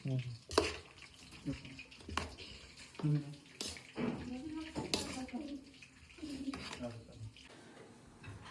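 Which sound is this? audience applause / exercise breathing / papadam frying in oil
papadam frying in oil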